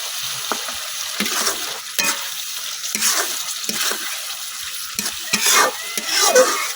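Spice paste and tomato fry and are stirred in a pan for an eggplant and fish curry, with a loud, steady sizzle and repeated scraping strokes of a spoon, heard close up.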